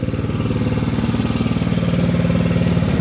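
A snow removal machine's engine runs steadily with its clutch engaged, producing a loud, continuous mechanical drone with a rapid, even pulsing throughout.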